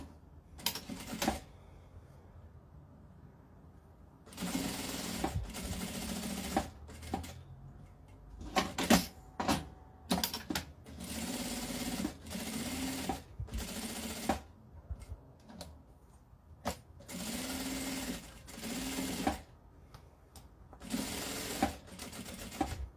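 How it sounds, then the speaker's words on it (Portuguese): A sewing machine runs a seam around a fabric men's oral-hygiene toiletry case, sounding in a series of loud, close stitching bursts separated by short quiet pauses, with no speech. "eu vou começar aqui com um pé de máquina, eu vou passar a costura em toda a volta"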